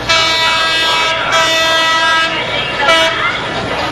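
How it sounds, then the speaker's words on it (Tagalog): A Philippine National Railways commuter train passes close by, its loud horn sounding in long blasts over the heavy rumble and clatter of the cars. "dito sa mga tren ng PNR"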